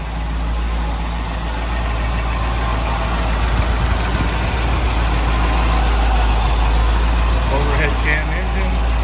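A 1973 Mercedes 280SE 4.5 V8 with overhead cams and aluminum heads idles steadily through twin tailpipes, a loud, close, even low rumble held throughout.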